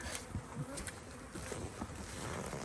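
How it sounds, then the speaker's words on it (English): A dense, droning buzz of many honey bees being shaken into a hive during a spring installation, with scattered soft thumps and rustles underneath. "There goes 5 pounds of bees right into that hive"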